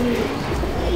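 A male Chapka Giribaz pigeon, an old breed kept in a loft in Julpia, South 24 Parganas, gives a brief, loud, close coo.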